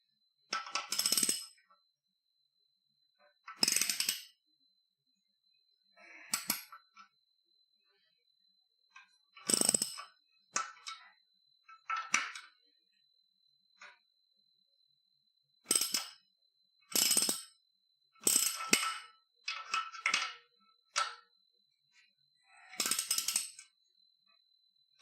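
Ratchet clicking in short, sharp bursts while loosening Loctite-coated bolts on a Mazda MX-5 Miata in a VR game, about a dozen separate close clicks scattered over quiet gaps, with a faint steady tone underneath.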